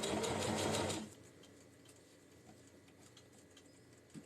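A sewing machine sews back stitches on a tote lining rapidly for about a second, its fast mechanical whir stopping abruptly into quiet room hiss.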